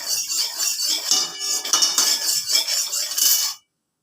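Metal spoon scraping and clinking against a dry pan as dry-roasted walnuts are taken off it, a busy run of close, bright scrapes and taps for several seconds, then sudden silence.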